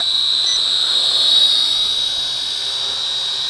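An RF606 mini drone quadcopter flies nearby, giving off a loud, steady high-pitched whine that rises and falls slightly as it moves.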